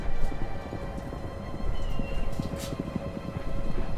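Many horses galloping in a video game, a busy patter of overlapping hoofbeats like a whole company riding past, steady and moderately close with a faint tonal hum beneath.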